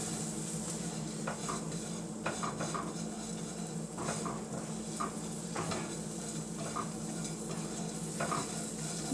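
A spoon stirring maple syrup through oat granola with walnuts and coconut in a bowl, a soft, steady sticky rustle with repeated light scrapes and taps against the dish, fairly quiet and close, with no voices.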